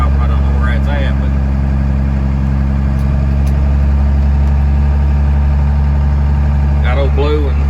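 A 12-valve Cummins diesel truck cruises in third gear on a snowy road, a loud steady low engine drone heard from inside the cab, with brief speech at the start and end.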